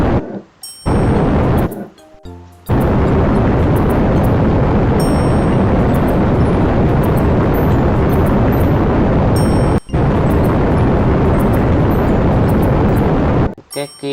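A rocket in a Minecraft space mod roars loudly toward the moon as a continuous, dense engine rumble fills nearly the whole stretch, broken only by a few short gaps.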